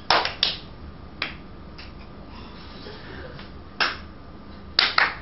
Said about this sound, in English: Just keep going on your claps.